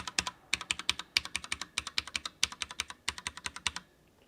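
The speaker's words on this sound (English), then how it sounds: "So the Cherry keyboard, so QWERTY keys first." Typing on a Cherry MX 3.0S wireless mechanical RGB gaming keyboard: close, crisp key clicks in quick irregular bursts with brief pauses, heard alone without talk.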